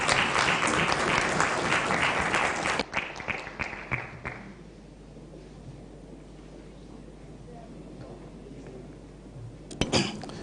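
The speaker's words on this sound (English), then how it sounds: "Ladies and gentlemen, I think she deserves another clap." Audience applause after a tourism seminar presentation in Uganda, a full burst of clapping for about four seconds that fades to a quiet room with faint shuffling, then a brief final clap.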